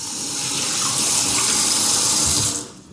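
Water runs steadily from a kitchen tap over a nonstick skillet as it is rinsed, a continuous broadband splash that holds level for over two seconds and then cuts off abruptly when the flow stops.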